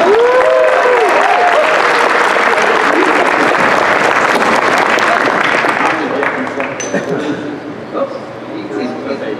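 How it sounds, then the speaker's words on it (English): A convention audience applauds a stage act, loud, dense clapping with cheering and yips, fading gradually in the last few seconds. "Give a round of applause!"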